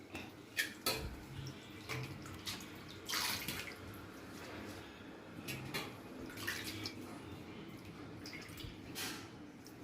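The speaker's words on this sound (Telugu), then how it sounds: "ఇలా మరిన్ని నీళ్ళు పోసి ఇలా బాగా గుంజుకోవాలండి." Konaganti greens being washed by hand, squeezed and wrung in a vessel of water, giving irregular wet squelches, drips and splashes close by with no talking.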